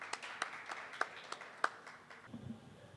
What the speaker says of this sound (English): may we please have a round of applause for the speakers